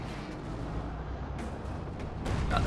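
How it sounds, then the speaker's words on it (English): Machine gun fire in the Company of Heroes 2 strategy game, a dense battle din with rattling bursts and distant booms under steady noise, growing slightly louder at the end. "Machine guns blazing away there."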